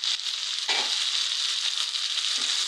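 Vegetables sauté in a hot pan with a steady, close, continuous sizzle that carries on without a break, and one soft thud of the spatula or pan partway through.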